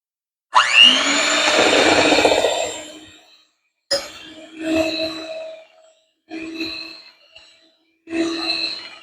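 Electric mixer whirring through vanilla sponge cake batter with olive oil, one long loud run followed by three shorter bursts with pauses between, no talking.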